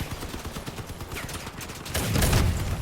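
Vehicle cannon fire in the Mad Max style combat game Crossout, a fast run of sharp gunfire bursts with a heavier, louder blast toward the end.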